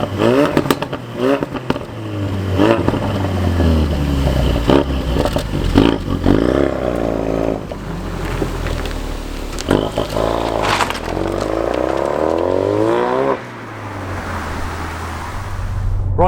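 A Ford Focus RS Mk3 drives on the road, its engine rising and falling through loud, sustained revs with gear changes and clattering crackles, heard up close without talk.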